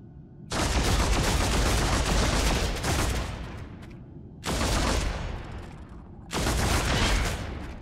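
Three long, loud bursts of dense automatic gunfire in the video game Deathwatch, separated by brief lulls.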